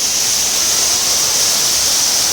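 A small waterfall in a forest near a village rushes with a loud, constant, unbroken roar of falling water, heard close up with no other sounds or voices.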